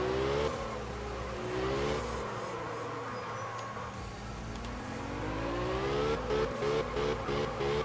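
Car drifting in the video game Absolute Drift, a steady engine drone with rising and falling revs and tire squeal through the slides, loud and continuous with no voices.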